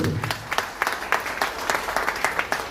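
Loud applause from a small audience at a crypto mining business presentation, uneven clapping with distinct sharp hand claps standing out in a quick irregular rhythm.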